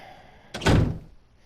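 Door opening in the Resident Evil Remaster video game, a single heavy thud with a brief rumbling creak, loud and close, then fading quickly.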